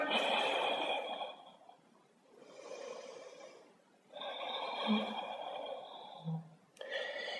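Rhythmic breathing during a Danish morning yoga flow, with long, fairly loud inhales and exhales alternating in slow cycles and short quiet gaps between them.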